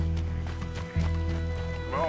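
A horse in the video game Red Dead Redemption 2 runs with quick, rhythmic hoofbeats under swelling game music, with a brief whinny near the end.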